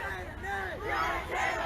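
Street protest crowd shouting and chanting, many voices rising and falling together in a loud, dense mass with individual yells standing out nearby.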